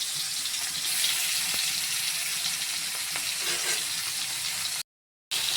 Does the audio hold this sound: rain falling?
no